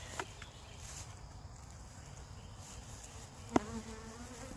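A steady insect buzz of many honey bees at a hive fills the clip, fairly close and continuous, with a couple of brief knocks partway through.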